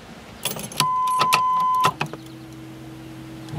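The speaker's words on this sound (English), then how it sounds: "so we'll turn on the ignition key" Ignition key turned on in an IROC-Z car, setting off a steady electronic chime tone for about a second, with a few key clicks and jingles around it, followed by a lower steady warning hum.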